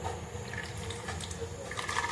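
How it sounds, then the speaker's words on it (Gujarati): Water runs steadily into a water bottle being filled, a faint continuous splashing gush with no voices. "હવે પાણી ભરશું આપણે"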